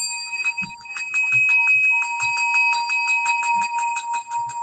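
A bell rings rapidly and repeatedly in a steady, bright ringing run, loud and close, with faint low thumps underneath.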